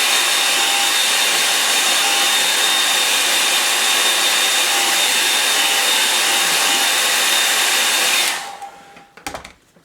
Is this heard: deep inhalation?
no